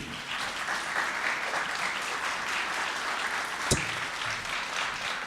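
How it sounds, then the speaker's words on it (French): A studio audience on a variety show applauds a musician with steady, even clapping, with one sharp knock partway through. "Je vous demande de l'applaudir comme il se doit"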